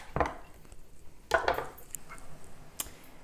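A knife cuts large pickles into slices on a board in a few sharp, uneven chops, with quieter gaps and a light clink between cuts, and nobody speaks.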